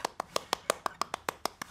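Children clap their hands together in a steady, even rhythm of about a dozen sharp claps in under two seconds, close and clear with no talking over them, as a nursery church service for young kids gets going.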